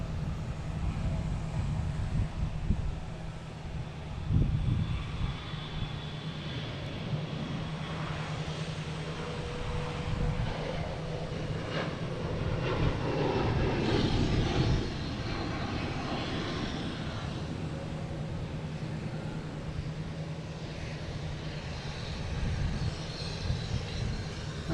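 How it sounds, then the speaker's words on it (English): A Delta jet taking off from Boston Logan for Atlanta gives a loud, steady engine roar that fills the whole stretch, with a low hum underneath and no voices. "We have Delta taking off, heading to Atlanta."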